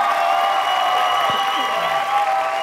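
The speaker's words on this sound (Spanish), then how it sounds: "¡El aplauso para Guillermo!" A late-night talk show studio crowd applauds and whoops in a loud, sustained wall of clapping, with shouted voices mixed into the roar.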